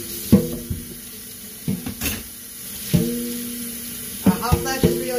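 A kitchen tap runs cold water while plastic items are washed in the sink, with splashing, clattering knocks of plastic and intermittent gushes of flow, close and moderately loud.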